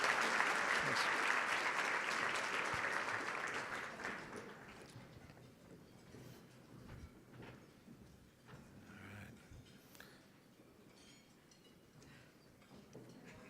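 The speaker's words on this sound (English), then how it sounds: "How about a round of applause for this group?" Audience applause at the One Water Summit 2018 conference, loud and dense for the first few seconds, then thinning out into quieter scattered clapping and room noise.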